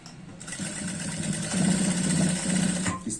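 A sewing machine stitches trouser belt loops in one continuous, close, steady run of rapid needle whirring that swells slightly midway before stopping.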